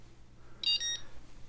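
A Wahoo Elemnt Roam bike computer gives a short pair of high electronic alert beeps from a Garmin Varia radar, faint against a quiet background hum.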